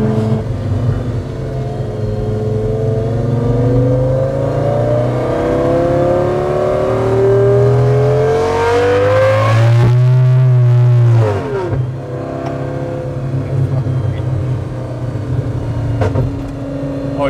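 A Volvo fitted with a Lamborghini engine pulls hard, its loud, close roar climbing steadily in pitch for several seconds, peaking, then dropping back to a lower drone as it eases off.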